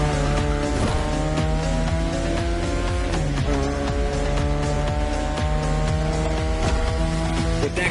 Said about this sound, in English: These turns are sharp. You gotta drift through these, Shingo.